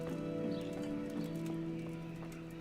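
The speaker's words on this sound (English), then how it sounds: "There's my horse." A horse in Kingdom Come: Deliverance clip-clops and stirs close by at a steady moderate level, with a brief snort or whinny amid game ambience and a low sustained drone.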